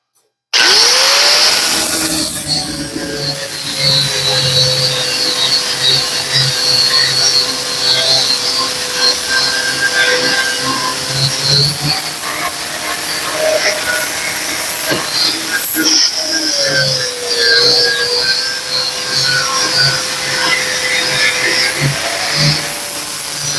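Flap wheel on a grinder smoothing welds on a custom steel SN95 Mustang hood, a loud, close, continuous whirring grind that holds steady for about twenty seconds, with slight pitch dips as the load changes.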